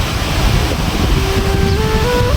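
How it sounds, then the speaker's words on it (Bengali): A cool breeze rushes in at an open window in a loud, unbroken roar of wind that buffets the microphone throughout. "প্রকৃতির এত সুন্দর হাওয়া, সেই হাওয়াটা খুব ভালো লাগছে, ঠান্ডা"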